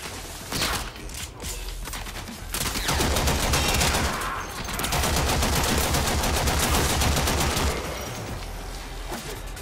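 Dense bursts of rapid automatic gunfire from the video game Warframe, loud and continuous with sharp repeated shots filling nearly the whole stretch.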